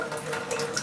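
A comb tooth mushroom held under a running tap, with an even, continuous hiss and patter of water close by and no break in the flow.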